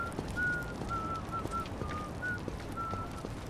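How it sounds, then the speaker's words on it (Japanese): Whistled melody in the Yakuza 8 video game: a series of short, clear whistled notes recurring across the clip over a steady bed of low game ambience, with no talk. "誰だ、口笛吹いとんのは。"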